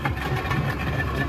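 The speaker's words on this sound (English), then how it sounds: "Here we're revving up the engines." Two outboard engines on a small Zodiac rubber boat rumble steadily at close range, a low, constant throb without clear rises or talking.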